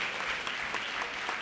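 Steady applause from a crowd after Christmas singing, dense and continuous clapping throughout with no voices standing out.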